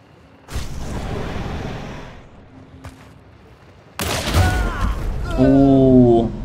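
Gunfire in a bounty-hunting video game: a loud, rumbling shot with a long tail, then another sharp blast a couple of seconds later, followed by a voice speaking over the fading echo.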